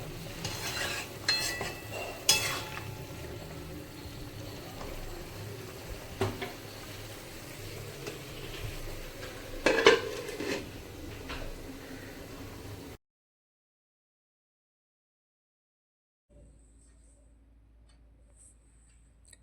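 Malabar spinach stalks cook in a pan with a little water, giving a soft, steady sizzle with occasional stirring scrapes up close, then a pause and a faint simmer under a lid.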